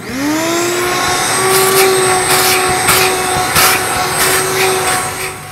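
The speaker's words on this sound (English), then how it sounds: "remove the carpets and start to vacuum." A steady vacuum cleaner whine runs throughout, loud and close, with brief bursts of rougher suction noise as the nozzle moves over a car's interior with the carpets removed.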